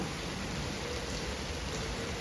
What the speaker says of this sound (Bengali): আজকে অনেকটা গুঁড়া গুঁড়া বৃষ্টি আপনারা দেখতে পাচ্ছেন